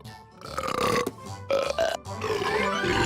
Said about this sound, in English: How to burp really, really loud.